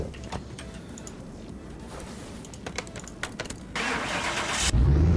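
A car engine turns over and catches, first a run of clicking and cranking, then a steady engine running with a louder burst near the end, recorded close by.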